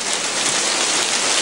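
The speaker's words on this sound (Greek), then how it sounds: "η βροχή ήταν έντονη για ώρες" Heavy rain pours steadily during a winter storm in western Greece, a dense, loud, unbroken hiss of drops striking surfaces with no voices.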